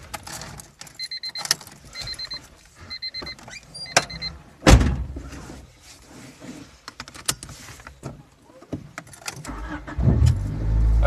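A 1997 Honda Civic DX with a D16Z6 engine drives along, its low road and engine rumble steady with a few sharp clunks and a rattle of keys, swelling louder near the end.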